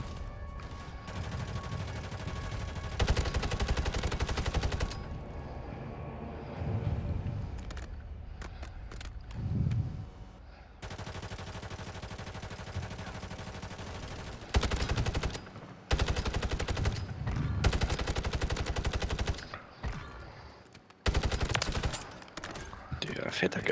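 Gunfire in the Warzone video game during a duos Resurgence match: repeated loud bursts of automatic fire, split by brief quiet gaps, with players talking between and over the shots.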